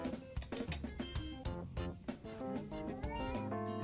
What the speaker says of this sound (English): can probably hear my cat in the background.